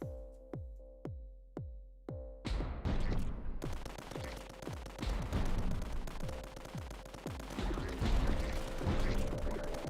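Light mortar in the strategy game Tower Dominion fires a steady run of evenly spaced booming thuds, then gives way to a dense, continuous barrage of overlapping blasts and rumbling impacts, loud and sustained, with no talking.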